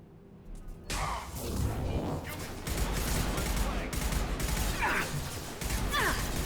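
Bursts of gunfire from the video game Mass Effect 2, a dense fusillade with whooshes and mechanical clatter running continuously at steady loudness, with talk mixed in.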